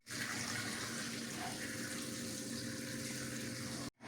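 Water heated to 80 degrees pours steadily from a conical tank cylinder over spent brewing grain, a continuous close rushing splash that cuts off abruptly near the end.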